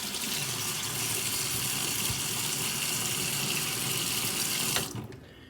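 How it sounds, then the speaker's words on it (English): Water runs steadily onto a sharpening stone during honing, a continuous close hiss that cuts off abruptly near the end. "Put a little water on there."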